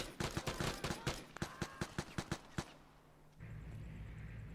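A quick string of about a dozen sharp, evenly spaced gunshots in the video game Vigor, close and punchy, followed by a pause and then a steady low rumbling ambience.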